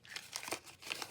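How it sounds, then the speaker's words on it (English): Sheets of collage paper crumpled up by hand, giving a close, crinkling rustle with quick crackly bursts and no voices. "Crumple it up."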